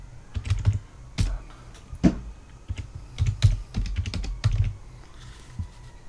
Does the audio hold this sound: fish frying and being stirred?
no